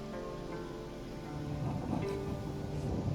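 Rain patters over low rumbling as a storm approaches in Assassin's Creed Odyssey, a faint, steady wash of weather that thickens slightly toward the end, with no voices.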